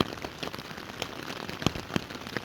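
Rain falls on an open Welsh mountainside on the Crib Goch and Y Garn route, a steady close patter of drops with scattered louder hits and no voices.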